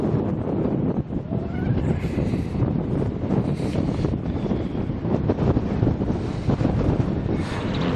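Wind buffets the microphone at Taronga Zoo in Australia, a constant, heavy low rumble with gusty swells. It carries on unbroken for several seconds, with faint indistinct background sounds beneath it.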